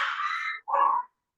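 A pet dog gives two short, moderately loud barks close by, with no talk around them.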